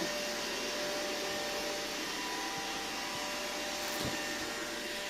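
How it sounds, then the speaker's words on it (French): A vacuum cleaner runs steadily inside a client's house during housecleaning, a loud constant whirring drone with a thin whine, with brief bumps as it moves. "On va descendre pendant que l'aspirateur travaille tout doucement."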